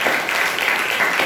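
Applause from a congregation at an Easter resurrection worship service in a church, a steady dense wash of clapping that continues evenly without talk.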